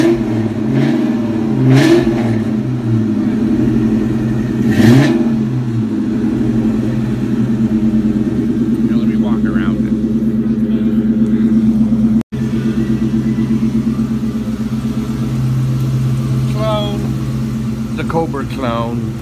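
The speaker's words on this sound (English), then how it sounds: "Mustang V8. Here it is, starting up." A Ford Mustang V8 with a steady, deep idle rumble throughout, a couple of sharp blips near the start and a brief cutout partway through, while people talk close by.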